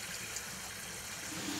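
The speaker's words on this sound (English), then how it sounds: "The wastewater is decanted over a wet wash sieve, and more water is added to the pan" Wastewater is poured from a pan over a wet wash sieve in a soil and aggregate testing lab, a steady close splashing, trickling pour that lasts throughout.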